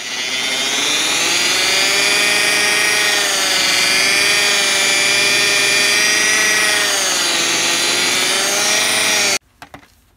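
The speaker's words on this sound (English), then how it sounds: "And then now I'm gonna buff this, take it off, then do the polish, and then the wax." A power buffer polishing a faded car headlight with cutting compound, a loud steady motor whine with slight pitch wavering that runs continuously before cutting off abruptly, followed by a few faint handling knocks.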